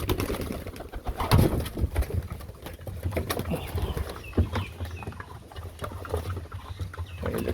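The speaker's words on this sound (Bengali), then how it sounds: "এই যে কবুতরের খাদি দিতে যাচ্ছে, কবুতর সব ছুটাফাটা করতেছে" Pigeons coo and flutter about at feeding time, soft throaty calls and wing patter at moderate distance over a low background hum.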